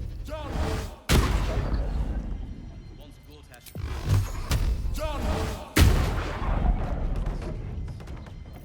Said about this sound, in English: We can use any spells or melee weapons to blow it open.